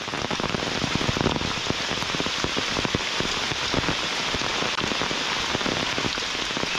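Heavy monsoon rain in the Konkan pours steadily onto surfaces, a dense, continuous hiss with close pattering drops and no voices throughout.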